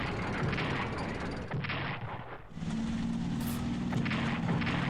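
Artillery fire in the World War II strategy video game Strategic Command WWII: World at War, a low rumbling barrage of booms with a brief dip midway, fairly quiet and continuous.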